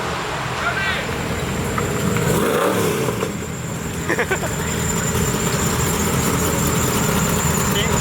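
Loud supercar engine rumbling at idle, then a couple of sharp revs rising and falling, with traffic noise and faint voices in the background.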